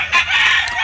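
Chickens in a battery cage for egg production, a short loud rooster-like crow rising over steady close clucking, with no talk.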